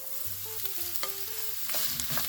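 Ground turkey browns in a pot over onions for a low-carb chili, a steady sizzle broken by tonal scraping squeaks of a spoon stirring against the pot.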